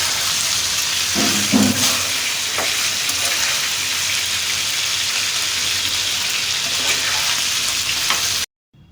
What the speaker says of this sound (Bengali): চিকেনগুলা জাস্ট আমি হালকা একটু ফ্রাই করে নিব